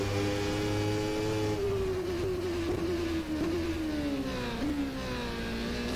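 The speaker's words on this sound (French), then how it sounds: "C'est un moteur Ford V8, bien sûr." A Ford V8 engine of a McLaren Formula 1 car in the racing game rFactor 2 drones loudly and continuously, its pitch sliding down and kicking back up through several gear shifts, with no voices.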